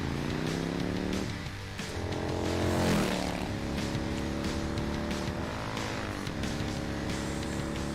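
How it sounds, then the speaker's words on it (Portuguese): An Arch Motorcycle engine runs at a steady, loud, close drone with rumbling harmonics, its pitch dipping and rising briefly as the throttle shifts. "ele fazendo os barulhos da moto é muito bom."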